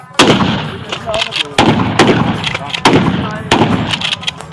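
A gun fires at firing practice, with shots in prone and standing positions. Four loud, sharp reports come at uneven intervals, and each echo decays before the next.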